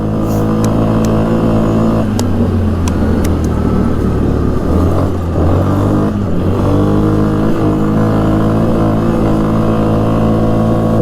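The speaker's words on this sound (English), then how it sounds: "This is full throttle right here." A 2005 Yamaha Kodiak 400 4x4 ATV engine runs at full throttle during a test ride, giving a steady, loud, close droning rumble that holds a constant pitch with slight surges throughout.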